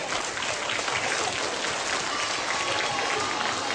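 Students clapping at a school Teacher's Day event, a dense, steady wash of applause from a crowd filling the whole stretch, fairly close and even in loudness with faint murmuring underneath.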